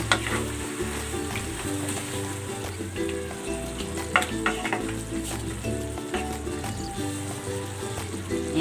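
Chicken adobo with water spinach sizzles and crackles steadily in a hot pan, with occasional stirring clatter and bursts of spattering, close and continuous.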